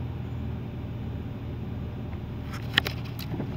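A 1985 Buick Regal T-Type engine idling: a smooth, even low rumble held steady throughout, with a few faint clicks and ticks near the end.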